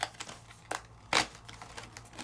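Several sharp pops and crinkles of die-cut pieces pushed out of cardstock, one loud snap near the middle, with softer crackles scattered around it, close and otherwise quiet.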